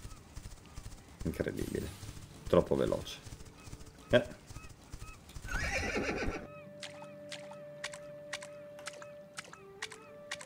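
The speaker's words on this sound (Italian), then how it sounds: "Guardate come sfreccia il cavallo per le praterie." Horse galloping across grassland in the video game The Quinfall, with hoofbeat clip-clop and a neigh while someone talks excitedly, followed by a steady run of evenly spaced hoof strikes.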